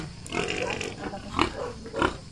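A sow in a backyard pig pen gives several close, low grunts in irregular bursts, loud and near, with farmyard background noise.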